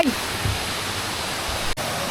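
A waterfall at Yong Waterfall National Park in the rainy season rushes in a steady, broad wash of falling water, loud and continuous, with a brief faint voice near the start.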